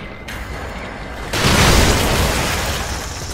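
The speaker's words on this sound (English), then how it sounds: "Let's see if I can get lucky with a grenade again." A grenade goes off in The Evil Within video game, one sudden muffled boom followed by a sustained rumbling roar that stays fairly loud to the end.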